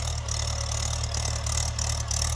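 A tractor engine idles nearby at a farm field, a steady loud low chugging hum with a regular throb and no voices over it.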